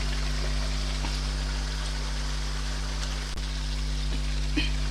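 Chicken pieces sear in oil over high heat for Lahori murgh chanay, a steady even sizzle over a constant low electrical hum, with a few faint clicks and no speech.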